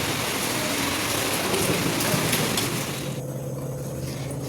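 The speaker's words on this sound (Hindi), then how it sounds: "अच्छी खासी हो रही बारिश, बहुत हो रही।" Heavy rain pours down in a thick, steady roar that thins slightly near the end, close and loud with no voices.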